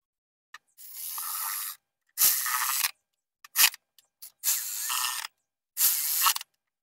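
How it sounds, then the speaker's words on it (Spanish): Ratchet wrench tightening the 10 mm capped valve cover nuts on a 1994–2001 Acura Integra GS-R after a valve cover gasket replacement, heard as five bursts of rapid clicking, each lasting about half a second to a second, loud and close with brief pauses between. "cuatro tuercas de 10 milímetros que tienen como cachuchita. Se los ponemos, lo apretamos"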